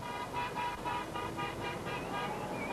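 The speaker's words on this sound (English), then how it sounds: "the first 650 Audi cabriolets are handed over to the German dealers, making for quite a cavalcade on the circuit" Hundreds of new Audi cabriolets roll past together in a cavalcade on a German race circuit, a steady traffic drone from several cars with repeated short horn toots pulsing above it, moderately distant.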